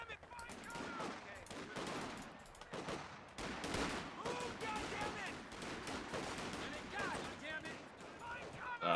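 Gunfire aimed at a machine gun nest in the Company of Heroes 2 strategy game: sustained machine-gun bursts and scattered shots crackle throughout a loud battle, with a player talking over the din.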